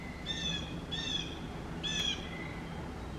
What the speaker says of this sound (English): Do you hear the owl and the other bird?